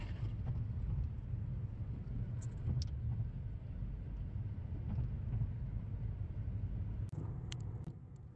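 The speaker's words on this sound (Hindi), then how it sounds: "ये तो बहुत बिजी सिटी है आज तो। बहुत ट्रैफिक है" Busy city road traffic heard from inside a moving car in the UAE early in the morning, a steady low rumble of engine and road noise with faint passing sounds and a few brief clicks.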